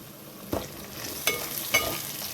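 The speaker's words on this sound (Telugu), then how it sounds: "ఇప్పుడు ఈ రొయ్యల్ని దీంట్లో వేసేసుకుందాము" Prawns fry and sizzle in a pan for a gongura curry, with three distinct scraping stirs cutting through the steady close sizzle.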